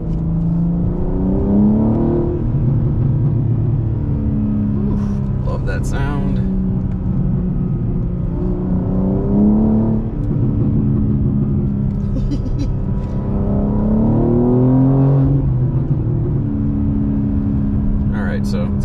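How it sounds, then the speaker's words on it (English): A BMW G82 M4 engine with stock airbox and BMC drop-in filters revs hard through third gear, rising in pitch, easing off on the shift, then climbing again, loud and close, with faint talk mixed in. "Let's get some third gear pulls to test the uh, stock airbox and BMC drop-ins."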